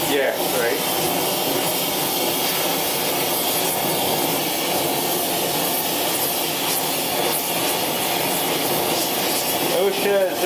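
A lit gas torch roars in a steady, loud, unbroken rush, used while fitting a 1933/34 Ford steering box into a Model A hot rod in a workshop, with people talking over it.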